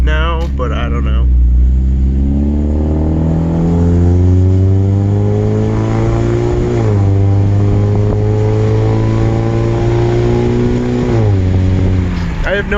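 A 2015 Scion tC fitted with Weapon R headers revs loudly and up close, its engine tone climbing and falling through several long sweeps with a steady rumbling exhaust underneath.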